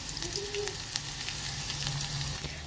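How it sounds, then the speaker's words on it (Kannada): Cumin and mustard seeds crackle and sizzle in hot oil, a continuous frying hiss with scattered sharp pops, heard close and alone without talk. "ಎಣ್ಣೆ ಕಾದಾದ್ಮ್ಯಾಗ ಜೀರಿಗೆ ಸಾಸ್ಮಿ ಹಾಕೊಂಡಿನಿ ಚಟಪಟ ಸಿಡಿಯಾಕತ್ತವ"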